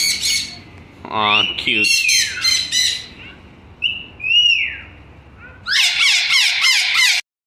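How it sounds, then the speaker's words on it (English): Cockatoos at a bird spot in Mexico give loud, harsh repeated squawks in bursts, close by, with a brief whistle-like call between them and a couple of short spoken remarks. "There's another cockatoo here."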